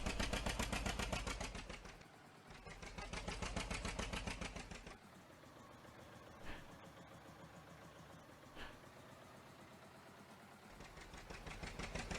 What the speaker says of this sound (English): they actually just have like a link to the in-game